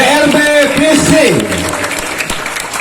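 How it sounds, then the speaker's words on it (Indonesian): An audience applauds the TRB Fishing team at a fishing tournament, and the clapping stays fairly loud and steady under an announcer's amplified speech. "Tepuk tangan untuk Tim Rencana Besar TRB Fishing."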